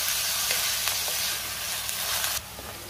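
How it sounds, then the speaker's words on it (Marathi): Onion sautéing in a pan for chicken curry gives a steady, close sizzle with soft stirring scrapes throughout, and the hiss drops noticeably near the end. "कांद्याला थोडा लाल रंग येईपर्यंत कांदा आपण परतून घ्यायचा आहे"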